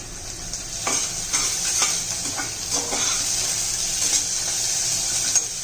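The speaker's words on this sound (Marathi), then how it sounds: "चांगलं परतून घेऊया आता कांदा टोमॅटो परतून झालेला आहे आपला" Onion and tomato sautéing in a pan for moong dal khichdi, a steady loud sizzle with repeated scraping stirs of a spatula against the pan, close by and without speech.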